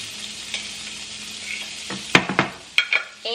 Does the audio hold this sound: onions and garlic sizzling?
yes